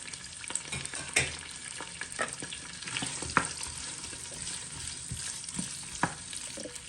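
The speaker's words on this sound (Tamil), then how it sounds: "சீரகம் கொஞ்சம் போட்டு சூடாகி வர அதுக்குள்ள வெங்காயத்தை போடுறோம்" Onions sizzle in hot oil with cumin seeds for a spicy chicken biryani, a steady crackling fry broken by several sharp stirring scrapes, close up with no talking.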